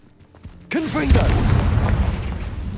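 A Confringo fire blast spell goes off in Hogwarts Legacy, a sudden booming explosion after a spoken incantation, followed by a roaring, crackling burst that lingers loudly.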